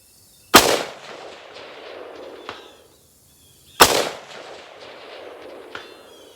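Two loud, close rifle shots from a Ruger RPR in 6.5 Creedmoor with a three-prong muzzle adapter, fired about three seconds apart, each a sharp crack followed by a long rolling echo across an open range.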